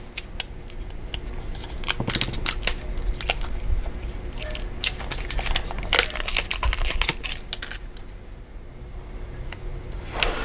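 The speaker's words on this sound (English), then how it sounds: "It's easier to use the scissors." Scissors snip through a red foil sticker sheet close by, a run of quick crisp cuts and paper rustles that grows busier midway and then thins out.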